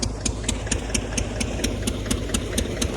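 Massey Ferguson tractor diesel engine running steadily on a rural farm during groundnut harvesting, a loud, close, continuous rumble with a regular knocking rattle pulsing about four times per second.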